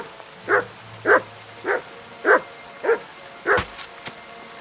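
A dog barks in the video game Kingdom Come: Deliverance II, six sharp, evenly spaced barks about half a second apart, fairly close and clear, followed by a couple of faint clicks, with no talking.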